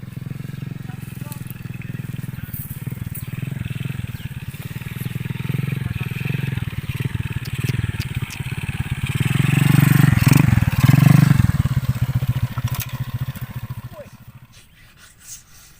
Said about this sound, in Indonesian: Motor mogok jere anyar.